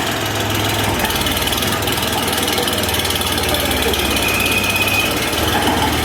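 Xingtai 244L mini tractor with side-shift gearbox, synchronizers and four-wheel drive, its diesel engine idling steadily nearby with a low, even rumble and light knocking, continuous throughout.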